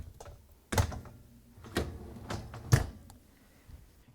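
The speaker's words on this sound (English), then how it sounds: "So we can now slide the lower dish rack in." Lower dish rack of a Bosch dishwasher rolling in along its rails during a door-seal repair, heard as a few close thumps and rattling knocks spaced about a second apart, with no talk.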